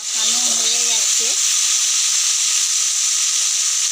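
Taro and prawn curry sautés in a pan with a steady, loud sizzling hiss throughout, while a voice briefly speaks at the start.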